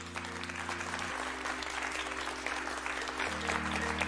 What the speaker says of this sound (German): Ein Applaus für Style Protocol.